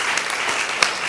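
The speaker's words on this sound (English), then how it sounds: "you can clap." Audience clapping at a church event, a steady wash of many hands for about a second, with one sharper clap standing out near the end.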